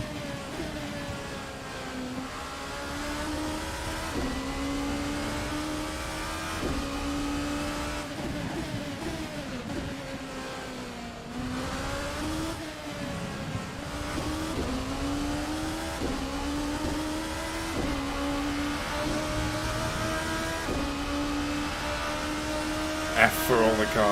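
Race car engine and gearbox of a VRC ByCollin P1 prototype at Silverstone in Assetto Corsa, with a steady engine drone repeatedly rising through the revs and dropping at each gear change, under ongoing conversation.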